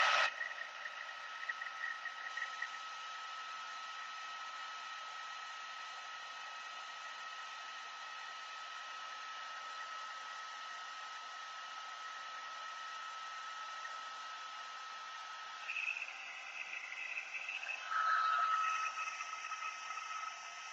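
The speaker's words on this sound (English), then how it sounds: "whenever you're heat embossing, you want to make sure that you're embossing it until it's just shiny" A heat gun used for heat embossing a stamped image on a card blows a steady, loud, close roar of hot air that runs for about twenty seconds, with a few small bumps toward the end and no talk.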